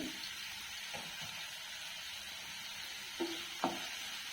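Vegetable pieces for pasta cook under a lid in a pan with a soft, steady sizzle, faint and even throughout, broken by a few light clinks and knocks near the end.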